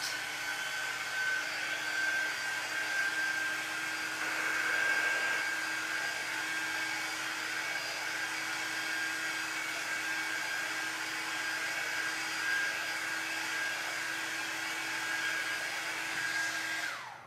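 A craft heat tool blows continuously to heat-set fabric ink on paper, a steady high-pitched whine and rush of air held for about seventeen seconds, close and loud, cutting off at the end.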